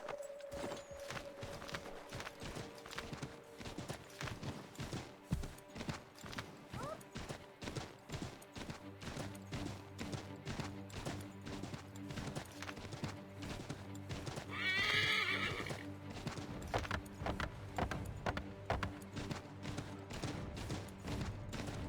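Horse hooves pounding in a rapid, steady gallop in the Assassin's Creed III Remastered video game, close and loud, with a sharp shrill whinny partway through.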